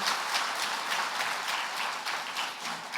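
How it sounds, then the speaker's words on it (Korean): Congregation in a church service applauding together, a dense, steady wash of clapping from many hands that lasts throughout at moderate volume. "크게 한번 박수로 축복하겠습니다"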